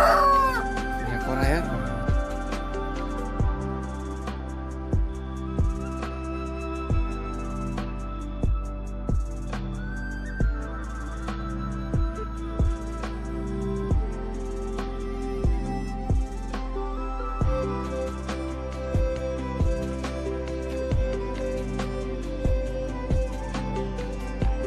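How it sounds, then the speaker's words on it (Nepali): Chickens and a rooster kept on a rooftop poultry farm, with steady clucking and a crow near the start over a repetitive beat of regular thumps throughout, moderately loud and close. "सो हाम्रो यहाँ चाहिँ कुखुरा पालन छ है छतमै। कुखुरा हेर्नु सक्नुहुन्छ तपाईँहरूले पनि। यहाँनिर छ भाले छ।"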